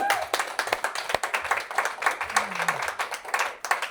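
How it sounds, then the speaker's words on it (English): An audience at a founders' panel at an LA pop-up breaks into a brief round of clapping, dense and close, with a voice speaking over it. "Round of applause."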